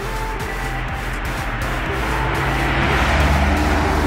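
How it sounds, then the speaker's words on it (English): A car drives past on a residential street in St. Louis, its engine and tire roar building steadily and peaking near the end as it comes close, with no talking over it. "Another car."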